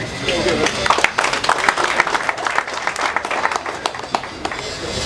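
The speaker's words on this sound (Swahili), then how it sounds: "Tupigieni makofi tena." Audience applause at a thanksgiving gathering fills the clip, a dense steady patter of many hands clapping at moderate loudness with a few louder claps standing out.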